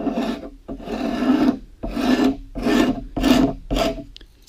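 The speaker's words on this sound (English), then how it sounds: "you can see where the scraper blade is touching" Steel scraper blade drawn repeatedly along a wooden guitar neck during shaping, giving five or six rasping strokes in a steady rhythm, close and fairly loud, with short pauses between passes and no voices.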